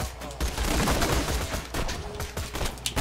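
Dense, rapid gunfire in the video game Borderlands 2, sustained volleys with sharp bursts that run almost the whole time, loud and close against a rumbling low background.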